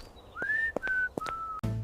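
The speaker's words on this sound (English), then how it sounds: "Even a simple, cheerful whistle from a young woman could arouse grave suspicion." A young woman's cheerful whistling, a short run of clear sustained notes sliding between pitches with brief breaks, close and solo, ending with a soft thump.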